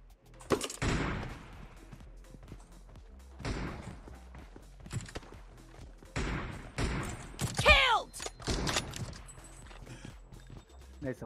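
Gunfire in the mobile battle royale game PUBG Mobile, with several bursts of shots and thuds spread across the clip, mixed with players talking.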